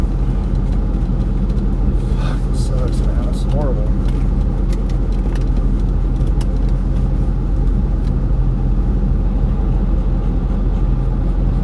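A diesel engine runs continuously close by, a steady low rumble under intermittent clicks and rustles, with a person talking briefly partway through.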